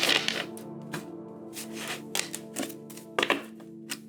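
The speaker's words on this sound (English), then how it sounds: "Last shuffle." A deck of tarot cards is shuffled by hand at close range, giving a run of quick riffling, rubbing bursts with short gaps between them and no talking.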